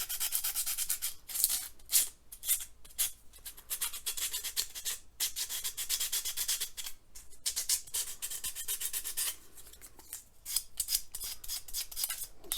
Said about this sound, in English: I want to sand this